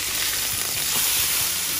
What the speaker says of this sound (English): That sizzle smells so good.